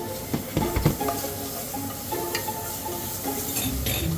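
Mushrooms fry in butter and oil in a hot pan, a steady sizzle and hiss with occasional scrapes and clinks of stirring against the pan.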